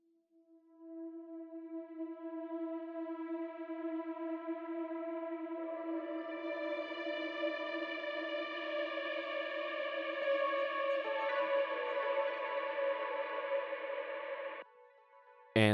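A sustained synth chord run through a diffusion reverb swells with a smeared, washy tail, the layered tones thickening and shifting over several seconds before abruptly cutting off.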